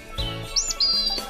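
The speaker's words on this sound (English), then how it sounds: "It's Daddy Bird." A bird gives a few quick, high chirps close by, short tweets spaced through a brief moment with no talking.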